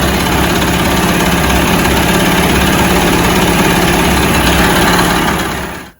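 A 1973 Mercury 40 hp Model 402 outboard motor runs at a steady, loud, close idle with a buzzing, throbbing drone, then cuts off abruptly at the end.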